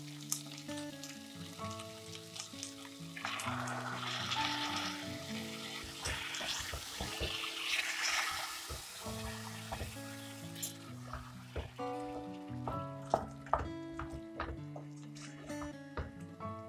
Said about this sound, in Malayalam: ഇനി ഇതിലേക്ക് ഈ തക്കാളി അരച്ചത് ചേർക്കാം.